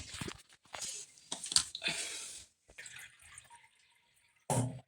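Water is poured from a cup onto three cups of rice in a cooking pot, landing in a few short splashing bursts with quiet pauses between them.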